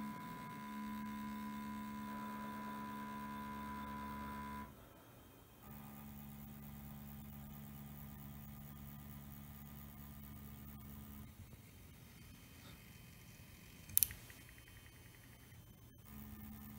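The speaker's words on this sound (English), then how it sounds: "Now it's going to move out of the way to calibrate the third motor." A homemade three-axis guided surgery robotic arm whirs steadily as its stepper motors move it aside to calibrate the third motor, a continuous mechanical hum with shifts in pitch and one sharp click near the end.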